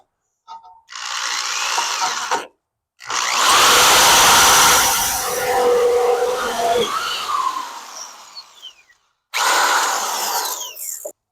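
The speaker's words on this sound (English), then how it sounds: "so I'm going to switch over to a hand drill here." A hand-held power drill whines in three bursts while drilling a motorcycle carburetor support, a short one, then a long steady run that bogs down, then another short spin.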